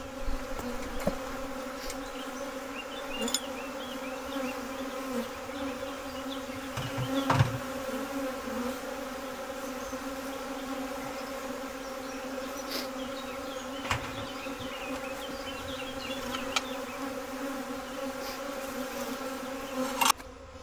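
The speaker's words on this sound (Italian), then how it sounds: "Mamma mia che ronzio." Honeybees hum steadily and loudly around hives housed in polystyrene boxes, a dense continuous drone with occasional close fly-bys of single bees and no talk.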